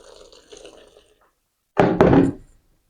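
Water poured in a short splashing burst, following quieter low clatter, while steamed idiyappam is being made in a Kilinochchi kitchen.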